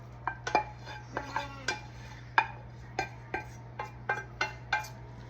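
Food scraped and spooned into a casserole dish for a tater tot and french fry shepherd's pie, a string of sharp clinks and knocks of a utensil against the dish, close and fairly quiet over a steady low hum.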